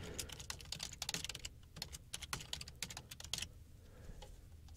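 Rapid, irregular keystrokes on a computer keyboard while a password is entered during WordPress account setup, the soft clicks fairly quiet and continuing alone for several seconds.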